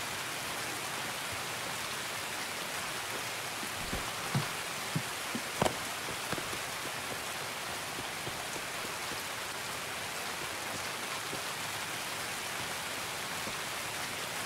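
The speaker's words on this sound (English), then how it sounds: "It's raining" Steady rain in the video game Escape from Tarkov hisses continuously, with a few louder drips and taps standing out early on, forming an even, enveloping wash of falling water.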